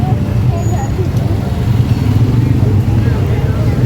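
Scooter ridden through city traffic, a steady low engine drone with surrounding road noise throughout, with speech present over it.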